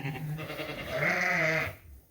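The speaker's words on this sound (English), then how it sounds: "You hear that sheep over there?" A ewe in a barn gives a loud, drawn-out bleat that swells in the middle and cuts off near the end, close by and clear with no talking over it.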